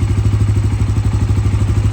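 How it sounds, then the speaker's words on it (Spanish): An Italika N160 motorcycle engine idles steadily after a repair for stalling and power loss, a loud, close, rapid rhythmic putter with even firing pulses throughout. "Y la moto trabaja todo perfectamente."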